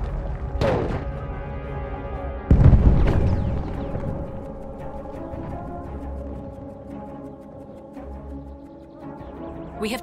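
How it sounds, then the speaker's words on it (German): A grenade explodes in the video game Battlefield 1, a heavy boom with a rumbling tail, preceded by an earlier sharp crack amid ongoing battlefield noise. "Granate ist raus, aufpassen!"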